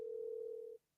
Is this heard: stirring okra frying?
no